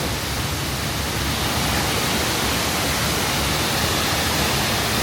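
A waterfall in Bali roars as a loud, steady broadband rush of falling water that fills the whole stretch without a break.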